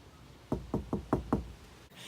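Someone knocks on a wooden door in a Romeo and Juliet stage scene: five evenly spaced, moderately faint raps in quick rhythm, alone with no voices over them.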